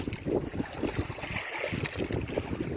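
Strong northeast monsoon wind, the amihan, gusts across a fishing boat at sea, buffeting the microphone in loud irregular bursts over the wash of waves and the hull's movement.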